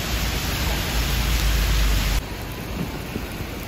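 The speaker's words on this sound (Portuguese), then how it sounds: "Olha como tá chovendo, galera." Heavy rain pours down during a thunderstorm in Balneário Camboriú, a loud, steady hiss of falling water that drops slightly in level partway through, with no talking.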